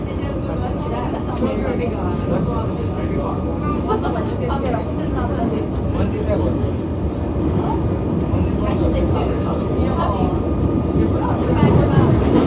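Melbourne metro train rolling along the tracks, a steady dense rumble with rattling and clacking throughout, heard from onboard at close range with people talking over it.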